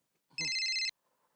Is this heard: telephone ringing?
yes